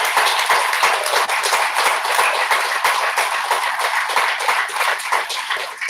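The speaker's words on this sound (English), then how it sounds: "Let's give a round of applause to all the artists." An audience claps steadily after an art exhibit presentation, a dense, even round of applause holding at one level throughout with no voices on top.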